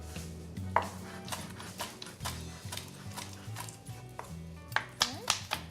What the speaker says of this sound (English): Just take your chef's knife, just give it a rough chop.